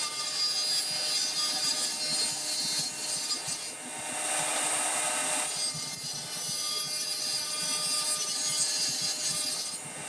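A power saw blade cuts a piece of wood partway in half, producing a continuous loud buzzing, rasping whine that swells and eases slightly as the workpiece is fed through, with no voices.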